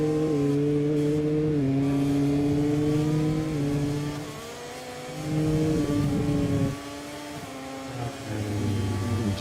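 Aprilia RS-GP MotoGP racing engines during qualifying, a loud continuous high-pitched drone with rising and falling pitch as gears shift, briefly dipping before surging again.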